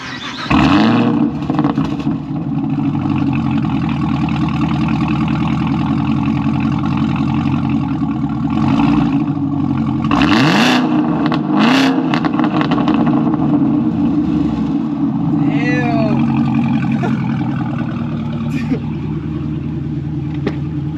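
Loud, deep supercharged V8 of a 2018 Chevrolet Camaro ZL1 1LE revving hard to about 4,000 rpm, roaring up in repeated bursts with a rumbling idle between, close by.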